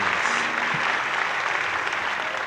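Steady applause from a crowd, a dense and even clapping that continues throughout without a break.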